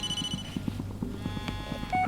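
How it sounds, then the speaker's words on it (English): In the Blair Witch video game, a phone rings with a thin electronic trill over a steady low hum and soft rhythmic knocking. It is moderately quiet, and no one speaks. "Someone's calling me."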